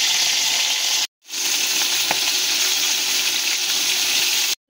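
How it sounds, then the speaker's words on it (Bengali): Tangra fish frying in hot oil, a loud, steady sizzle that fills the whole clip, broken by one brief silent gap near the start. "এবার আমরা মাছগুলোকে দিয়ে দেব। তারপর মাছগুলোকে দিয়ে ভালো করে ভেজে নেব।"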